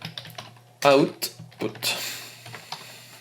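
Computer keyboard typed in short bursts of clicking keystrokes while writing a script, close and clear under a voice speaking French.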